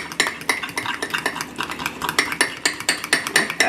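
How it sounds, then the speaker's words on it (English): A spoon briskly mixes applesauce and vanilla extract in a mug for a mug cake, a fast, regular run of close clinking taps against the mug's sides. "I'm going to mix it together"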